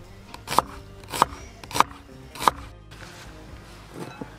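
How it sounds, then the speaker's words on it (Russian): Four sharp knife chops slice an onion into half-rings on a board at an even pace, close by, followed by a couple of softer taps. "Лук нарезаем полукольцами."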